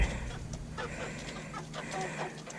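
Soft clucking from roosters over a steady low background hum, a few quiet calls spread across the moment.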